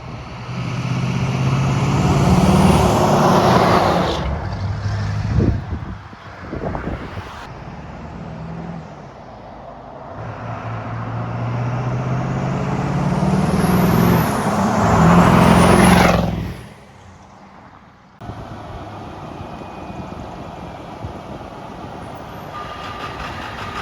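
Diesel pickup with a 7.3 Powerstroke engine and drag-style tune roaring past nearby, engine noise rising to a loud pass and fading, then a second surge before cutting off abruptly.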